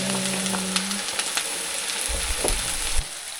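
Garlic fries in a karahi for Nepali village jhol momo, giving a steady, fairly loud sizzle with light stirring ticks and a low thump or two near the end. Nobody speaks.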